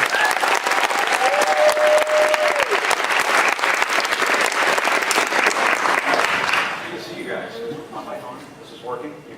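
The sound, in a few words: audience applause for Jim Acosta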